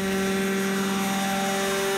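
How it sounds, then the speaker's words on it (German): Unfinished model replica of a Bundeswehr Alouette helicopter on a test flight, a steady loud rotor whine with a strong constant tonal hum, nearby and unbroken, with no speech. "Ein Nachbau des Bundeswehrhubschraubers Alouette. Testflug im Rohbauzustand."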